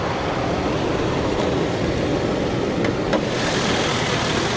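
A Toyota VVT V6 car engine runs at a steady idle nearby, an even mid-pitched hum with a couple of faint ticks and no voices.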